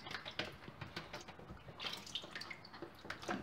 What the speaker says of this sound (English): Now I continue wash my vegetable with water and vinegar.